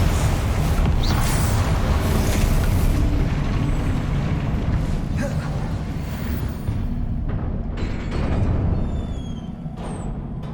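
Rumbling blast from the Confringo explosion spell in the Hogwarts Legacy video game, a loud sustained roar with layered debris and crackle lasting throughout, no speech over it.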